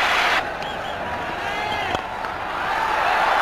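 Stadium crowd roaring for a four by Tendulkar during the 1996 Cricket World Cup semi-final between India and Sri Lanka, a dense sustained cheer that swells with one brief sharp spike in the middle.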